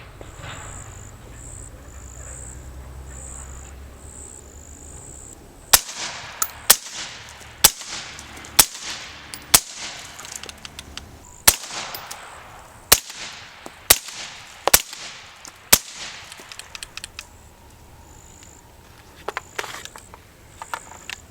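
A 5.56 rifle is fired outdoors with a Rugged Razor suppressor, giving a series of about a dozen sharp, cracking reports at irregular intervals of about a second. Crickets and insects buzz steadily underneath.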